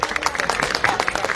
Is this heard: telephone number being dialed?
no